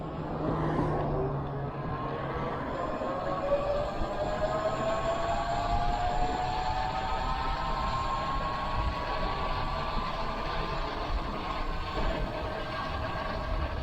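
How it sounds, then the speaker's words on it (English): A 72-volt electric bike on a throttle-only top speed run over flat ground, a steady whining motor tone rising in pitch over continuous wind and road rush, loud and unbroken throughout. "Here is a throttle only top speed test, flat ground."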